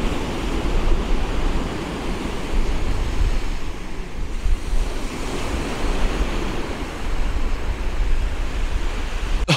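Waves and strong wind on a cold, blustery beach at Eyemouth, a continuous loud wash of surf mixed with gusty wind buffeting the microphone, with no voices.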